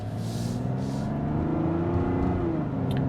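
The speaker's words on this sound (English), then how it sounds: "But let's go ahead and accelerate slowly here." Engine of a 2025 Mazda CX-70 Turbo S SUV pulling away gently, a steady low drone with harmonics that rise gradually in pitch as it gains speed, smooth and continuous from start to finish.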